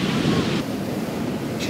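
Ocean waves wash onto a beach as a loud, steady surf roar close by, with gusts of wind buffeting the microphone.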